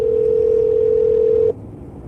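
A phone call placed during a live stream gives a single steady ringback tone, loud and clean, lasting about a second and a half before cutting off to faint background hiss.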